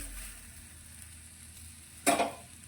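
A besan (chickpea flour) pudla cooks on a hot iron griddle with a faint, steady sizzle. Near the end a brief scrape and soft thud mark the flip, followed by a louder burst of sizzling.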